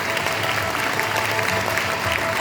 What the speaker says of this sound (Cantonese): 而家大家以最熱烈嘅掌聲邀請兩位到台上為我哋分享